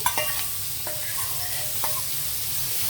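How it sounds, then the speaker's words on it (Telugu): Minced mutton keema with ridge gourd, added to hot oil and chilli powder, sizzles steadily in a pan while it is stirred, with a few sharp scrapes of the spoon against the metal. "కీమా వేసాక మనం ఇలా కలపాలి వెంటనే కలపాలి"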